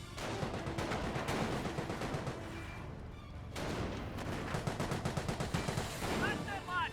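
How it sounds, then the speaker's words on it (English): Rapid gunfire from German grenadier infantry in the Company of Heroes real-time strategy game, dense overlapping rifle and machine-gun bursts with explosions behind, continuous and loud, with a brief lull partway and a commentator talking over it. "Hans Grenadiers firing away"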